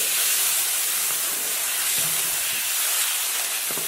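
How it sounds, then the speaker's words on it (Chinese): Boiling water hits hot chili oil fried with dried chilies, Sichuan peppercorns and hotpot base, giving a loud, steady, broad hiss and steamy sizzle that fills the whole stretch without any voices. "炒出红油以后加入开水。"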